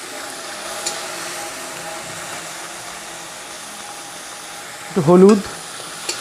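Small prawns fry lightly in a hot pan with salt, giving a soft, continuous sizzle. A brief burst of speech breaks in near the end.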